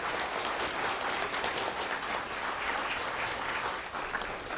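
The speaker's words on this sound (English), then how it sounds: "Let's have a round of applause for our school board." An audience at a school district student recognition event applauds the school board, a sustained, even roar of many hands clapping with no speech over it.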